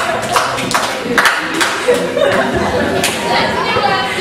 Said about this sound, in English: I have to request you to clap once